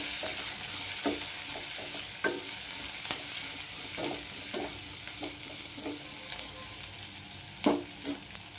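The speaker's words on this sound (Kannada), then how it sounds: "ಈರುಳ್ಳಿ ಹಾಕಿದ್ದೀನಲ್ಲ, ಬೇಗ ಸಾಫ್ಟ್ ಆಗುತ್ತೆ ಅದು ಈರುಳ್ಳಿ. ಅದಕ್ಕೆ ಸ್ವಲ್ಪ ಉಪ್ಪು ಹಾಕ್ತೀನಿ ನೋಡಿ." Onions sautéing with salt in a pan, a continuous soft sizzle broken by repeated stirring scrapes and taps at irregular intervals, close and steady with no voices.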